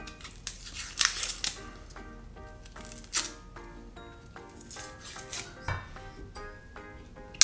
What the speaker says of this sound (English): Then we're going to peel the onion.